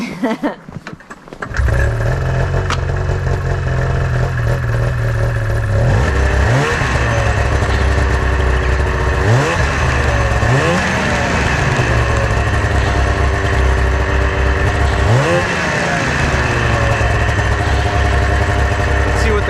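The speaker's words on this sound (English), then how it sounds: "I'm going to start it and we're going to rev it without the track touching anything and see how the sled responds." A 1999 Arctic Cat ZR600 snowmobile with a CV Tech clutch starts and settles into a loud idle. Its raised track spins freely as it is revved several times, each rev rising and then falling back, close by.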